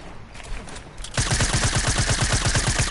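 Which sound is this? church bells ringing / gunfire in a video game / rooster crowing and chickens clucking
gunfire in a video game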